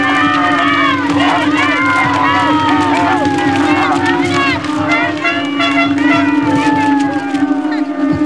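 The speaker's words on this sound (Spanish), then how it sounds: "comandante Ollanta Humalatazo, para quien lo recibimos con el aplauso y el cariño" A large crowd at an official event in Cusco cheering and shouting, a dense roar of voices and whistles that stays loud and continuous.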